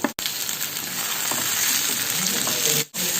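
Tomato sizzles steadily in a hot pan of softened, salted onions for a Kerala squid roast, with a couple of sharp utensil clunks at the start and end.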